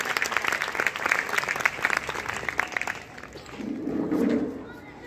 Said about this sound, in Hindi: तालियों के साथ सबसे पहले उनका दो बार